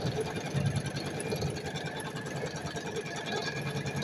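Usha 550 sewing machine stitching a blouse, a steady close mechanical whir with a fast rhythmic needle chatter running continuously and fairly loud throughout.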